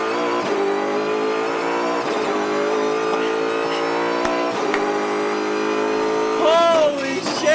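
NASCAR race car pulling out onto the track, engine roaring steadily and loudly from inside the car, rising into a higher revving whine toward the end, with faint voices underneath.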